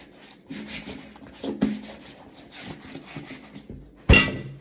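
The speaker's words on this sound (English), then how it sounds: "So I'm just gonna rub any excess off right here on these boots." Leather boots being rubbed down by hand to remove excess conditioner, soft repeated scuffing strokes, close and fairly quiet, ending in a sharper louder rub.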